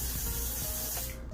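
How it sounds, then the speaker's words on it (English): Even Wonder Lace spray hisses steadily from a bottle onto a lace frontal hairline, a continuous close spray lasting over a second before cutting off. "use my Even Wonder Lace spray and apply that to my hairline with my finger"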